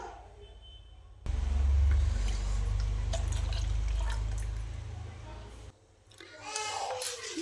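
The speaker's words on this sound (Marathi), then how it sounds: "मिक्सरचं भांडं विसळून थोडंसं पाणी पण टाकून घ्यायचं आहे" Water pours steadily into a mixer jar holding dosa batter with a full, rushing splash that lasts several seconds, then stops; faint background voices and clatter follow.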